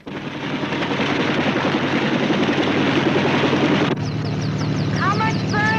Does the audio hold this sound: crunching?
no